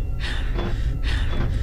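A character in SCP Containment Breach breathes heavily, giving two or three close, breathy gasping pants in a short rhythmic sequence.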